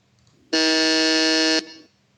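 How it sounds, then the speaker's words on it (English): A single harsh, loud buzzer blast lasting about a second, the obnoxious strike sound from a homemade Family Feud game built in PowerPoint, standing alone against near silence with a brief tail fading out. "You get a nice, obnoxious buzzer sound."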